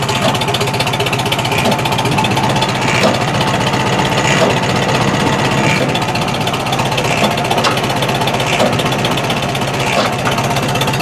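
A Farmall tractor engine idles at a tractor show with a steady, even, rapid mechanical chatter that stays close and constant throughout.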